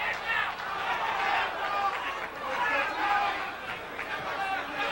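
Boxing arena crowd at the Larry Holmes vs. Michael Spinks rematch, a large audience roaring and chanting in rolling, swelling waves, dense and continuous with distant voices merging together.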